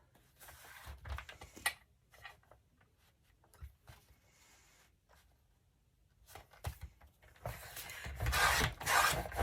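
Card stock being cut down to size in a home craft room, with irregular rasping, scraping strokes and soft taps over several seconds, growing louder and denser toward the end.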